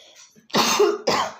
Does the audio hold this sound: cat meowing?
no